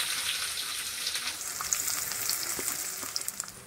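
Chopped onion goes into hot oil in a wok already holding a bay leaf, dried red chillies, whole cumin and garam masala, giving a steady close sizzle and crackle with a few sharper pops toward the end.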